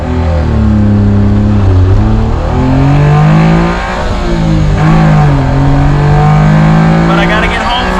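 A Honda Beat, a Japanese-market kei roadster, revs hard and bounces off its rev limiter, its engine note rising and falling in loud, close waves that fill the whole stretch.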